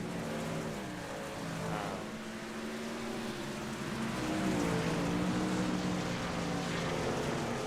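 A truck engine drones in a NASCAR iRacing truck race on the Eldora dirt track, a faint, continuous hum that rises and falls in pitch as the truck laps.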